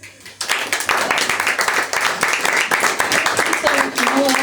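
Audience at a music and poetry night for mutual aid bursting into loud, sustained clapping that starts abruptly and continues with cheers and a voice over it.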